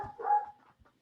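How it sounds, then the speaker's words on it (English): A pet dog gives one short, muffled bark or whine in the background, followed by a faint second yip, with no talk over it. "Sorry about my dog."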